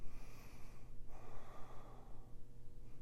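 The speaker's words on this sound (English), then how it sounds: "Breathing into these ribs." Slow, deep breathing during a therapeutic rib-expansion exercise, with audible inhales and exhales in a rhythmic pattern, close to the microphone and without talking.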